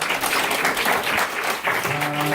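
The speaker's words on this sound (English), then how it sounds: "Please give him a warm round of applause." Warm round of applause from an audience at an Atomy members' event, steady crowd clapping, fairly loud and close, with a sustained tone entering near the end.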